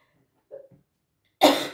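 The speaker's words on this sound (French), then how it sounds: "j'ai eu une crise d'éternuement" A single sharp sneeze bursts out after a few faint throat sounds, loud and close, part of a sneezing fit.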